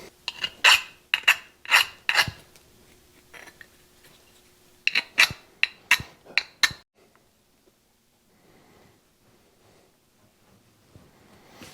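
Hand file rasping burrs off Cat D4 hydraulic pump parts, two bursts of about five quick, loud strokes each separated by a pause, close by, then near silence with faint handling sounds.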